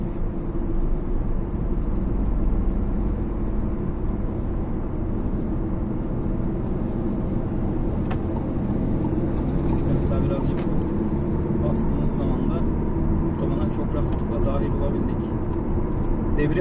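A Fiat Egea Cross with a 1.6 diesel engine producing 130 horsepower is heard from inside while driving, with a steady low engine and road rumble running throughout under continuous talk.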